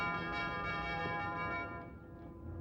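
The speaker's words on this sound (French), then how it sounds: "arrête de t'acharner sur cette sonnette" A doorbell is rung over and over, giving a sustained bright metallic ringing that holds steady, then fades slightly toward the end, with no talking.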